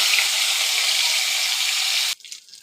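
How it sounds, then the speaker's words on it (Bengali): Hilsa fish heads fry in hot white oil in a wok, giving a loud, steady, close hiss that cuts off abruptly after about two seconds, leaving faint handling noises. "এবার আমি মাছের মাথাগুলো"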